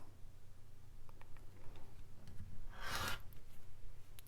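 A rotary cutter slices a fabric strip into 3.5-inch triangles against a Super Sidekick ruler, one brief rasping cut near the middle with faint taps and handling before and after, alone without talk.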